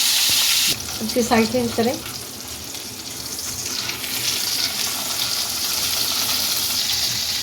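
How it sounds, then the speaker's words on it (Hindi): Chapli kebab fries in a pan with a loud, steady sizzle, and a voice speaks briefly over it before the frying carries on alone. "अब ये चपली कबाब इसके अंदर डाल दें।"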